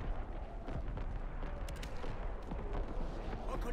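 An artillery strike in Call of Duty WWII, heavy rumbling explosions and scattered gunfire rolling continuously at moderate loudness under a faint radio-style voice.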